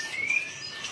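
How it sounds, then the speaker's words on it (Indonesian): A single clear, rising whistle of a white-rumped shama rings out briefly over a quiet background, songbird-like and fairly close. "ini dia, Bos, rajanya murai batu"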